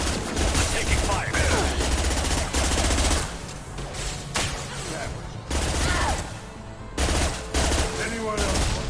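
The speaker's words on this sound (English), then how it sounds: "Taking fire." Sustained bursts of gunfire rattle through a Mass Effect 2 firefight, dense volleys of shots rising and falling in waves with short lulls between.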